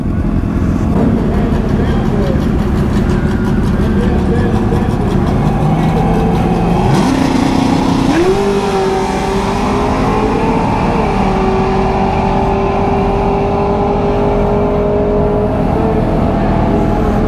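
A Kawasaki ZX-14R motorcycle at a drag strip, its loud, close engine droning, then climbing sharply in pitch partway through and holding a high, steady rev over a constant rumble.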